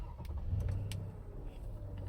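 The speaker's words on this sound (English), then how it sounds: "Okay, I'm going to start the car." A 2009 Toyota Vellfire ZG 3.5-litre engine turns over and catches, settling into a low, steady idle rumble close by.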